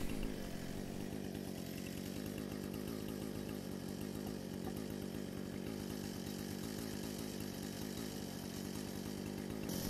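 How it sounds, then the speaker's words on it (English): A chainsaw cuts a notch into a wooden brace post, its engine running steadily and loudly under load for the whole stretch, with no talking. "I need to cut flat wedges on my brace post."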